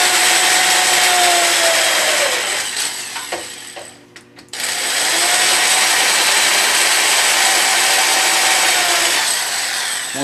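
A power drill bores through wood near a door being hung, the grinding drone running loud and steady, breaking off briefly midway with a few knocks before the motor picks straight back up and continues.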